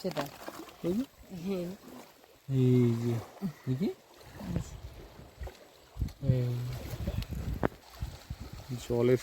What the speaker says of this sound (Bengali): আকাশ মেঘ করলে এই ঢেউটা হয়